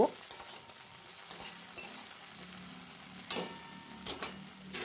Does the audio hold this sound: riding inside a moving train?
no